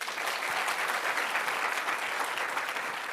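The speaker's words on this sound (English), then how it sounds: "I want you to applaud really loudly" An audience claps loudly and steadily throughout, a dense, sustained wash of applause with no talking.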